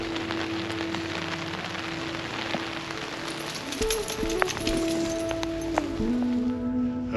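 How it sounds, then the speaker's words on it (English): Steady rain patters down on a backcountry campsite in the Banff wilderness, a dense continuous hiss with scattered drips and occasional louder knocks close by. "It's just been raining most of the day."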